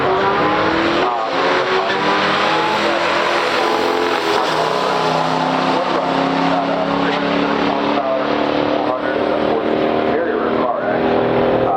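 A 1968 AMC AMX and a 1970 Pontiac GT-37 in stock trim race side by side at a drag strip. Their engines roar loudly and continuously, with layered tones shifting as they accelerate.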